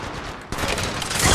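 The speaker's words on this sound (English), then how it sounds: "Getting shot at." Rapid gunfire in Apex Legends, a dense burst of shots that grows louder and fuller halfway through, with no talk over it.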